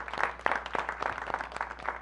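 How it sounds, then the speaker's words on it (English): Scattered clapping from a small audience at a council proclamation ceremony recognizing the Wheaton Arts Parade, quiet and fairly sparse, with distinct individual claps over a low room hum. "So a round of applause for Dan."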